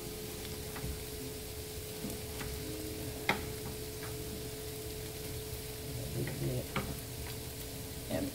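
Potatoes frying in a cast-iron pan, giving a steady close sizzle with occasional stirring clicks and scrapes, no talking.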